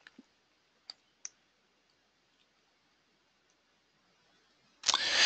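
A computer mouse gives a few soft, isolated clicks in a quiet room, spaced apart, before a sudden louder burst of noise at the very end.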